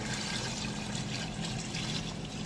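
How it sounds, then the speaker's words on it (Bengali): Water is poured into a pan of cooking chicken with potatoes, carrot and capsicum, giving a soft, continuous trickle and splash close by, fairly quiet and with no talk. "সামান্য একটু পানি দিয়ে দিলাম"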